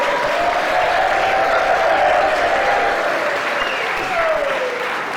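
A crowd in a venue breaks into loud, continuous applause with some cheering during a stand-up comedy set, the dense clapping steady throughout while a faint voice rises briefly over it.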